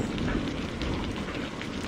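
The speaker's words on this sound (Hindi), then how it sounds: "अब बस इसी बात का इंतजार है कि कब बारिश बंद हो" Heavy rain falling in an animated Hindi moral story about a small bird, a dense, steady hiss of rain on surfaces that stays loud and even throughout, with no voices.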